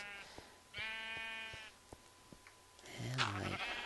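Sheep in Minecraft bleating in several separate calls, fairly close, with quiet clicks and thumps between them and a louder bleat near the end.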